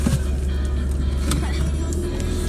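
Car with a rough, bad-sounding engine while being driven, a low steady rumble and drone that fills the interior throughout, with faint rattles and knocks over it.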